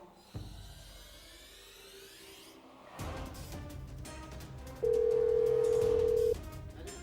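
A phone line tone sounds while someone dials a switched-off mobile: a steady, loud single-pitch tone for about a second and a half, set against background noise and clatter in a home scene.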